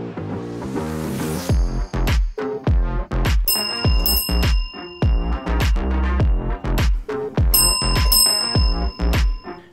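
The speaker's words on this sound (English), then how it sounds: "the bell's been going crazy, which has been really rewarding" A small bell on an Arduino-driven like-button device rings in a rapid series of bright metallic dings, repeated hits layered over rhythmic music throughout.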